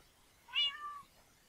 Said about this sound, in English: I think Orange Cat 3 likes you